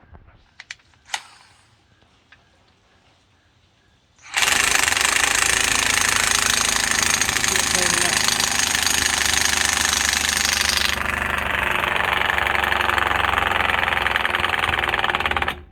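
Impact gun pulling longer wheel studs into a wheel hub on a 1957 Ford, a few soft clicks and taps, then a sudden loud, sustained rattling hammering for about eleven seconds that shifts in tone partway through.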